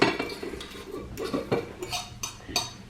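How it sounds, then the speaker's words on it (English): Ripe banana mashed in a bowl for a healthy breakfast, with a utensil clinking and scraping against the dish in quick, uneven strokes, close and without talk. "I'm going to mash this ripe banana up as well"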